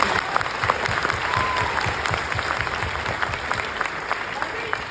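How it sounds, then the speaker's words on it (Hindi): A crowd at an event in Mumbai claps steadily and loudly throughout, dense and continuous applause with voices faintly mixed in underneath. "तो एक बार जोरदार तालियां"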